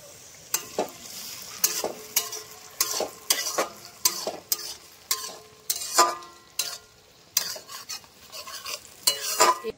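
Onions frying in a pan as chopped tomatoes go in, with repeated scraping stirs of a spatula in a steady rhythm over a continuous sizzle, close and clear.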